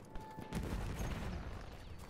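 A big mounted gun firing in the video game Battlefield 1, heard as one heavy, booming report with a long rumbling tail, fairly faint and under steady battlefield noise.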